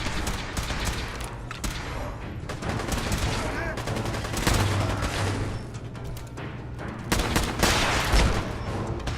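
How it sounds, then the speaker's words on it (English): Rapid bursts of gunfire from Fallout 4 combat crackle in dense volleys throughout, loud and sustained with louder peaks near the end, under occasional faint talk. "they're shooting each other now"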